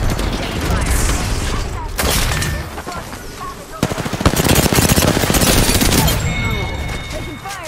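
Rapid automatic weapon fire in Apex Legends, loud bursts rattling close with sharp impacts and echoing shots, broken by brief pauses, while game voice lines play over the shooting.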